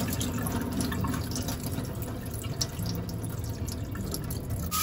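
Tap water runs steadily into a bowl while rice is rinsed, a constant close splashing stream without talk.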